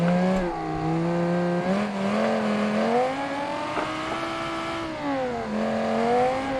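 A game car engine revs steadily and loudly, its pitch rising and dipping as the throttle is eased, with a faint tire squeal near the start; nobody talks over it.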